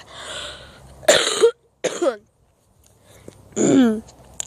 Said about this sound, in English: Sorry, it's the cough.